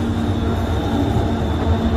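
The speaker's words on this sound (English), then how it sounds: "And there's the train." A small train passing near a bridge outdoors, a loud continuous rumble with a steady high whine on top, steady throughout and close by, no talking.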